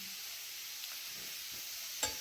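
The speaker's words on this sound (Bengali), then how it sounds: "আলু ভাজা বসিয়েছি, এটা হবে, মুচমুচে করে হতে হবে" Potatoes fry in a pan to go crisp, giving a soft, steady sizzle with a brief scrape of stirring near the end, quiet and close with no talking.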